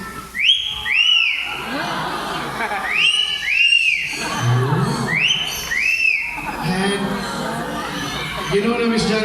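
A trained show bird at a safari park bird show gives repeated rising-and-falling whistles in pairs, loud and close, amid crowd chatter and a presenter's voice.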